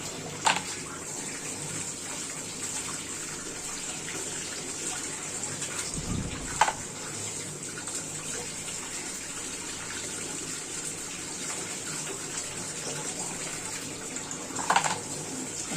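Water running steadily from a tap while crabs are washed, a continuous hissing gush throughout, with a few brief sharp knocks and clatters at the start, middle and end.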